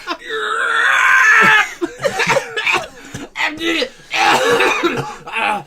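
Several harsh coughs break out amid chuckles and talking voices, close and loud, with a sustained strained vocal sound near the start.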